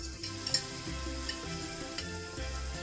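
Onion dropped into very hot oil sizzles softly and steadily, with a few light clicks of stirring and faint tonal hum beneath.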